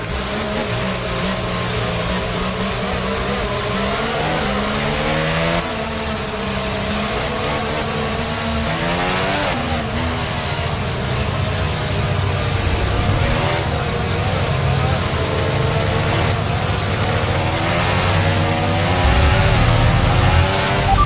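Formula 1 cars accelerating at Silverstone in the F1 24 racing game, a steady, loud engine drone that rises and shifts in pitch continuously, with no talking over it.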